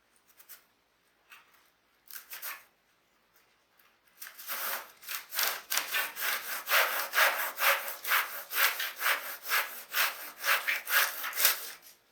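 Danish cord is pulled tight while a new seat is woven on a Wegner CH-25 lounge chair. A few faint rubs give way to a run of rhythmic, rasping friction strokes close by, with no voices.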